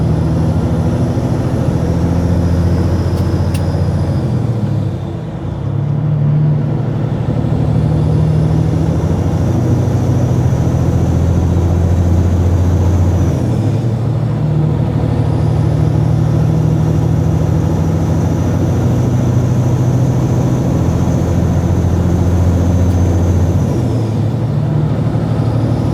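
A loaded truck struggles for grip heading into London on Highway 3, its engine a loud, close, continuous drone, with air hissing faintly at intervals over the steady rumble.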